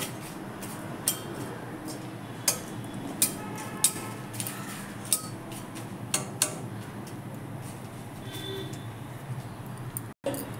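Light, regular ticks and clinks from a spoon against a pan as cardamom and cinnamon are stirred in the heat, about a dozen small taps over a quiet background hiss.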